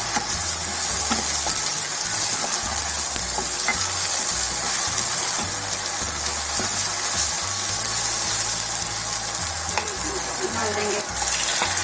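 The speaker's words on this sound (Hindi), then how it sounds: "अब हम इसमें अदरक लहसुन डाल देंगे, ये अपनी मिर्च डाल देंगे, एक 2 मिनट तक भूनेंगे।" Ginger, garlic and chillies sizzle steadily in a hot pan, a loud continuous frying crackle with occasional stirring clatter throughout, no talking.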